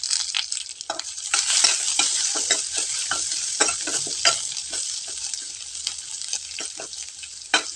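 Garlic and dried red chillies sizzle steadily in hot oil, a dense close frying hiss broken by frequent short scraping stirs of a spoon against the pan, with no talking.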